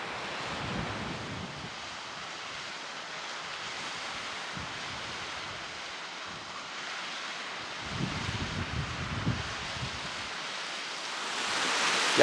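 Waterfall at the Fuente del Señor near Andilla, Valencia, heard from the foot of the falls as a steady, even rush of falling water, constant and moderately loud throughout with no voices.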